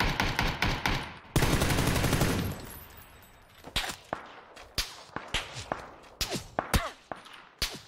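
Bursts of automatic rifle fire and single gunshots in a PUBG match on PC, a dense rattling volley early on followed by sharp, spaced cracks and snaps at varying distances, loud and with no talking over it.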